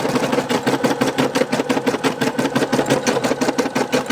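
Embroidery machine stitching a Christmas ornament design, a loud, close, fast regular mechanical chatter of needle strokes running steadily throughout with no voices.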